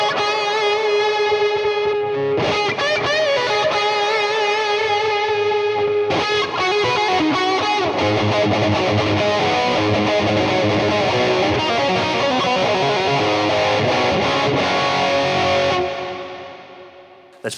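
A heavily distorted, fuzzy electric guitar plays chords and riffs continuously at loud volume through a SKYLAR reverb pedal, then fades out at the end.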